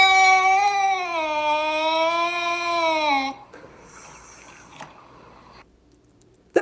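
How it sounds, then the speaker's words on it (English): A cat caterwauling as if getting ready to fight, one long loud wavering yowl lasting about three seconds, then quieter rustling and a few faint knocks. "I think that's like cats getting ready to fight"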